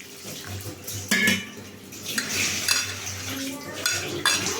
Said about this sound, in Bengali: মাখিয়ে মাখিয়ে ভালো করে নারকেলের দুধটা বের করে নিচ্ছি।